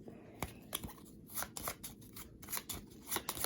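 A deck of cards for the Star Wars Imperial Assault board game is shuffled at a table, with repeated riffling and snapping bursts close up and faint speech in the background.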